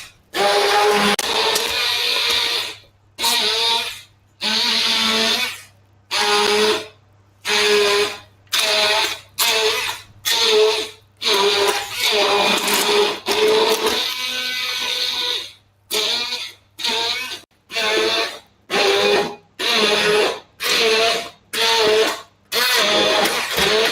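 Hand blender blitzing Brussels sprout and cheddar soup in the pot, a loud whirring motor in repeated bursts with short pauses between them, no talking over it.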